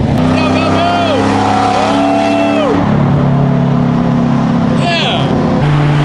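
A car engine roars loudly close by, climbing in pitch and dropping back as it accelerates through successive gear shifts, with a voice briefly heard over the steady engine drone.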